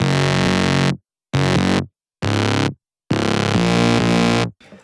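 Thick sawtooth synth bass from a Vintage Saw preset in a future bass style plays four loud, sustained chord stabs separated by sharp silent gaps, with no voices.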